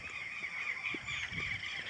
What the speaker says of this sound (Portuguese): só o som dos passarinhos, das galinhas, dos tec-tec, dos galos d'água e essa tranquilidade